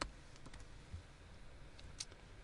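Quiet computer keyboard typing while scripting in Python for Maya, a few soft scattered clicks at low level with no talk.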